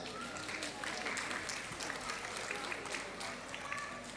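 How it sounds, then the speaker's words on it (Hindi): Audience at a Rajasthan event applauding, steady moderate clapping spread over four seconds at a fair distance, with faint voices mixed in beneath it. "थोड़ा तालियां बजाइए ना"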